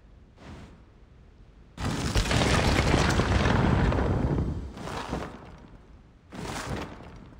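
A stone pillar sliding out and being swapped for another in the puzzle game Escape Simulator, heard as a long heavy rumbling grind followed by two shorter thuds, with no one talking.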